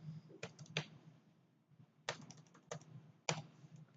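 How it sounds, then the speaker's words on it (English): A computer keyboard being typed on, soft close key clicks in small clusters with brief pauses, entering a mobile number on a registration form. "You can type your mobile number."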